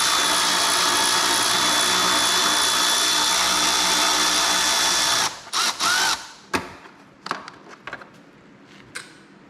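A power tool whirs steadily for several seconds while removing 8 mm bolts from the fuel pump of a Bad Boy Maverick zero-turn mower, then cuts out into a few loose clanks and taps, loud and close.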